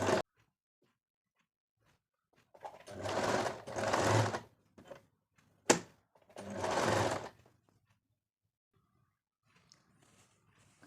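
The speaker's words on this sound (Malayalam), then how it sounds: "ഇങ്ങനെ നമ്മൾ സ്റ്റിച്ച് ചെയ്തെടുത്തു" A sewing machine stitching a folded ribbon for a neckline design runs in two short bursts, with a single sharp click between them, then falls quiet apart from faint handling noises.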